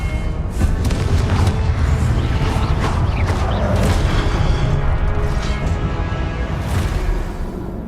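Repeated fiery spell blasts from the Confringo curse in Hogwarts Legacy, dense booming bursts layered over constant game battle noise and music for the whole stretch, loud and close with no clear gaps.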